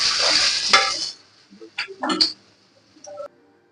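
Jute leaf pakoras frying in a pan, with a steady sizzle at first, then a few short scrapes and clinks of a utensil as the fritters are turned, followed by quieter bubbling.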